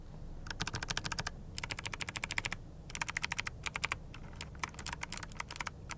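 Fast clicky typing on a GK600 TKL wireless mechanical keyboard in several bursts with short pauses, crisp and close.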